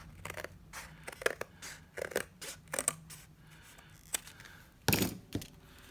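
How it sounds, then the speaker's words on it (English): Scissors cut through the fold of a paper card in a series of quiet, close snips that come in short bursts, with a sharper crisp cut near the end. "I'm actually just going to cut that fold line off so that I can make two individual cards"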